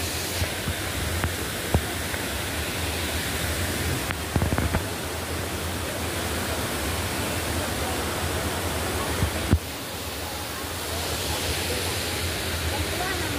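Situbo Falls pours as a steady, broad rushing roar that fills the whole stretch, loud and close, with a few brief knocks and a faint voice over it.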